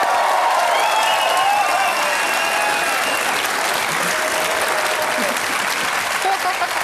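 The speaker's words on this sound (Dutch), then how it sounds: "Geef een applaus." Studio audience at a TV show breaking into steady, full applause with a few cheers, while a sung or whistled tone fades in and out over the clapping.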